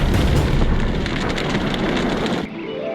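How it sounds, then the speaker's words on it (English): Incendiary bombs exploding during a WW2 RAF bombing raid on Berlin, a dense, roaring wall of blasts and rumble sustained throughout before cutting abruptly to a quieter low drone near the end. "RAF pilots also strike Berlin, dropping several incendiary bombs which cause widespread damage."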